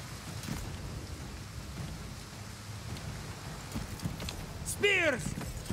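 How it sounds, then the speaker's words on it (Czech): Steady rain hisses across a Total War Pharaoh battlefield, a soft continuous wash with low rumbles beneath and a brief whistling cry near the end. "Prší je hnusně, skvělý."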